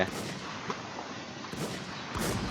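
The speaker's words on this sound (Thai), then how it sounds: "โอ้โหเสียงสไนแถวนี้เยอะเว้ย" Sniper rifle shots in the video game WarZ: a few sharp, booming reports, including one near the start and two more closely spaced later, each ringing out over a steady rumbling background.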